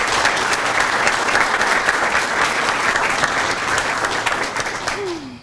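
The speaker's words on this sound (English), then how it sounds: "So round of applause for all of our award recipients." Sustained applause from a town hall audience honoring award recipients, steady and dense throughout before tapering slightly at the end, with a brief voice rising near the close.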